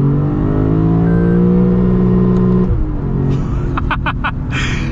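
Lexus RC F Fuji V8 engine revving hard and loud from inside the car, a sustained high drone that drops off sharply into a series of violent, crackling downshift blips.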